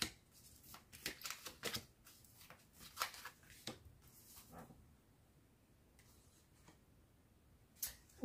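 Tarot cards shuffled for a card reading, heard as soft, close bursts of riffling and flicking in short groups, then a quieter pause and a final brief shuffle.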